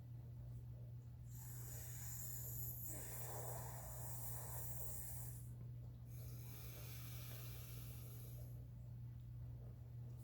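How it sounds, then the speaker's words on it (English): Sitali pranayama breathing: long hissing inhalations drawn through a rolled tongue alternate with softer exhalations through the nose, close and steady over a low constant hum. "You're going to inhale through your tongue and exhale through your nose."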